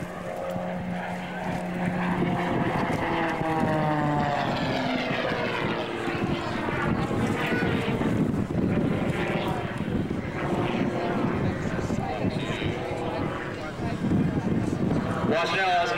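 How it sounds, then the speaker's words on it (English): Canadian Forces Snowbirds jet diving for airspeed at the 2003 Kern County airshow, engine tone sweeping in pitch as it passes, with a commentator talking over it throughout. "Mike's diving down for airspeed."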